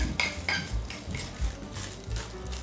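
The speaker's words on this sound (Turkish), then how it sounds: "Karıştırıyorum." Cocoa, oat, biscuit and banana ball mixture being stirred in a bowl, with rhythmic scraping and clinking of a spoon against the dish repeating steadily at close range, no talking.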